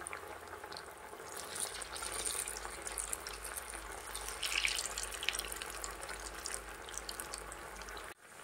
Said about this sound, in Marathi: तर आता आपण तळून घेऊया.